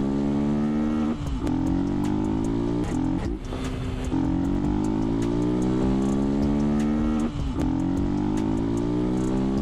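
A Twister 300F motorcycle is ridden steadily: a close, constant engine drone that rises as it accelerates, with short dips at each gear change, and no talk.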